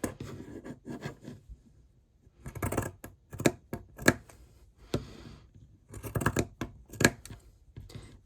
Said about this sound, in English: If I use pinking shears, it just makes it look a little bit more fun.